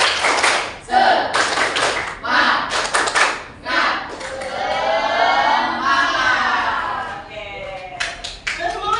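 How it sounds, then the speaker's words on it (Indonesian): Students in an Indonesian grade 8 classroom do the tepuk semangat chant clap, sharp rhythmic group claps in bursts, close and loud, mixed with voices chanting and speaking. "Tepuk semangat."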